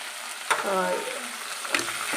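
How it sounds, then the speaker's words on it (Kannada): Tomatoes sizzle and fry in a pan while being stirred, a steady close hiss broken by two sharp scraping strokes of the spoon. "ಚೆನ್ನಾಗಿ ಫ್ರೈ ಮಾಡ್ತಾ ಇದ್ದೀವಿ"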